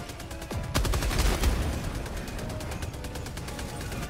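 A sentry turret in Helldivers 2 hammers out a fast, even stream of automatic shots, loud and close, after a heavier burst of impacts near the start.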